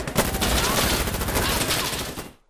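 Dense, rapid bursts of automatic gunfire from the tactical shooter Insurgency Sandstorm, loud and continuous and filling nearly the whole stretch before cutting off abruptly at the end.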